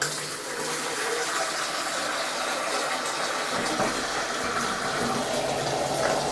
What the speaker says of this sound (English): And then I'm going to put some more hot water in just to